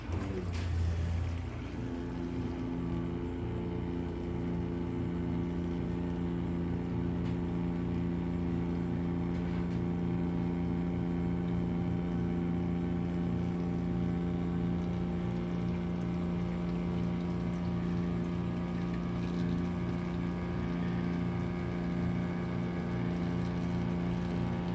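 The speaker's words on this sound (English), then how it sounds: "I want to see how this thing handles a sump pump." A sump pump runs in a basement sump pit, powered by a portable power station, giving off a steady, even motor hum with a constant tonal drone that continues unbroken at moderate loudness.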